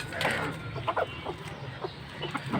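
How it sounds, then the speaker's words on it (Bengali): Hens on a small farm crowd close while following their keeper, giving a series of short, irregular clucks at near range over a quiet outdoor background. "পিছন পিছন ঘুরতেছে সব মুরগি"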